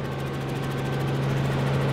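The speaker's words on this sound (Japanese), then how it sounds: "私たちは今ヘリに 乗り込み、" A helicopter drones steadily during aerial filming over Fukuoka, a loud, close engine and rotor hum that stays constant throughout.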